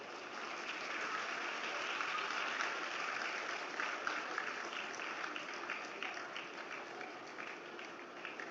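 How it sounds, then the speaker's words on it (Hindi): An audience at the Gomti Book Festival inaugural event at Lucknow University applauds in a dense, steady wash of clapping that sounds somewhat distant and moderately quiet, with no talk over it. "कृपया उनका तालियों से अभिनंदन करें।"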